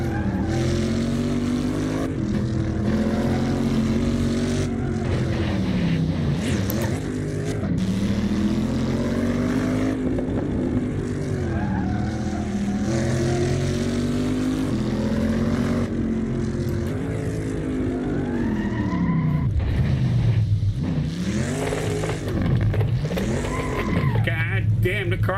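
An American muscle car races in the Assetto Corsa driving game, its engine note climbing and dropping through repeated gear changes in a continuous, loud drone.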